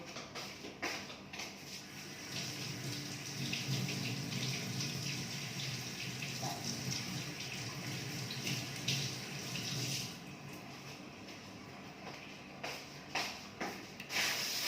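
Food for a home dinner is washed under a running tap, a steady hiss of flowing water with faint splashes and shifts as the food is handled, fairly quiet and close.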